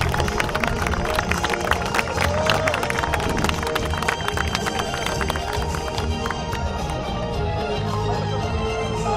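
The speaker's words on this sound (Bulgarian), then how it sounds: "Силни аплодисменти за Ивайло Петков" Crowd at a rally awards ceremony clapping and cheering for a driver, a dense, continuous roar of hands and voices with babble mixed in, steady and fairly loud throughout.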